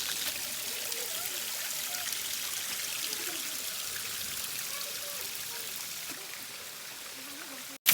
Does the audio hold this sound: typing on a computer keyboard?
no